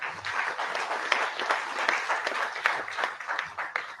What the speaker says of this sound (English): give a round of applause also to the Vice President and the Minister